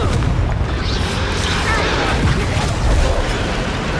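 The Bombarda explosion spell in Hogwarts Legacy lands as a dense, rumbling boom with crashing debris, loud and sustained, and a heavier swell near the end.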